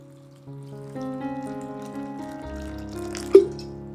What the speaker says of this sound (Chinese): 新葡萄干先用饮用水清洗一下